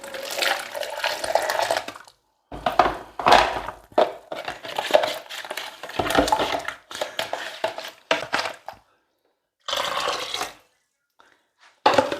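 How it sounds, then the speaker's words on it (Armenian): Water pours in several bursts separated by short pauses into a mix of flour, bulgur and matsun yogurt, a splashing, gurgling stream close by, with no talking. "մի քիչ էլ ջուր լցնեմ"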